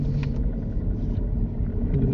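A car engine during a driving lesson, a steady low rumble that builds slightly as the gas is applied again, with road noise throughout and no talking over it.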